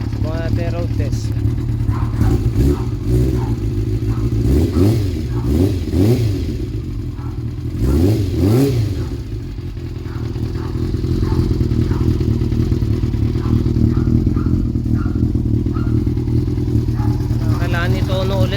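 A Kawasaki ZZR400 motorcycle engine on a road test runs loudly up close, revving and settling through several rises and falls in pitch, with a voice speaking at points.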